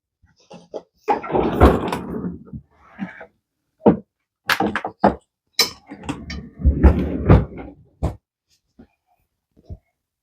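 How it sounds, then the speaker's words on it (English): Clattering handling noises, bumps and scrapes come as a freezer door is opened and shut, with irregular bursts of knocking and rustling separated by quiet gaps and a few sharp clicks. "let me get this back in the freezer"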